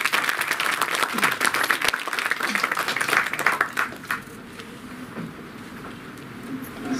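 An audience at a state-level drawing and colouring competition prize ceremony breaks into loud, dense applause that lasts about four seconds and then fades into a quiet hall.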